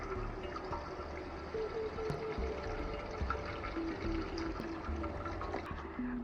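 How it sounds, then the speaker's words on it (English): Water runs through a tube into the filler port of a pressurized camping shower tank, a continuous gurgling fill with faint tonal whines, steady and fairly close, without speech. "you just put the end of the tube into this filler port, and you can see it's filling up now."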